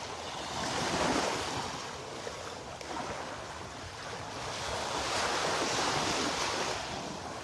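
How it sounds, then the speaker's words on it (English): Ocean surf rolls onto an empty beach in North Naples, Florida, a continuous wash of breaking waves that swells and ebbs, mixed with wind buffeting the microphone, with no voices. "Big empty beach. A big old empty beach."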